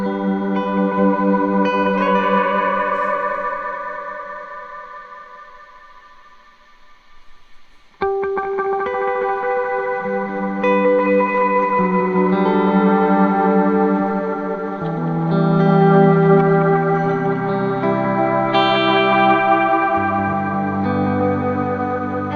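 Layered guitar delays, interacting through a bleed control on a delay and reverb pedal, smear and overlap into a dense, shimmering wash of repeating notes, swelling and fading with long echoing tails and no talking.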